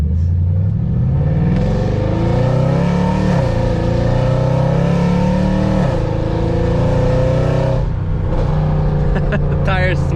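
Mercedes C63 Black Series engine revving hard and loud up close, with a rising, falling howl of repeated pulls and a dense rumble that stays constant for the whole stretch.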